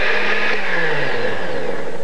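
A kitchen blender whirs loudly and steadily as it purees organic kitchen scraps with about a cup of water, a dense continuous grinding roar with no voices.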